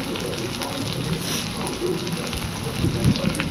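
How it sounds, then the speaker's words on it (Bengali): Garlic, onion and chopped green chili fry in a pan for a tarka, giving a close, continuous crackling sizzle with scattered pops that rise a little toward the end. "রসুনটা একটু ভাজা ভাজা হয়ে গেলে তোমরা তাতে পেঁয়াজ দিয়ে নেবে।"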